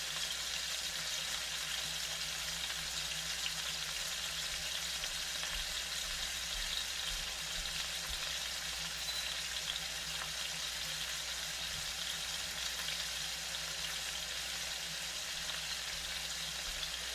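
Garlic pork chops frying in a pan give off a steady, continuous sizzle and hiss that holds evenly throughout, with no talking.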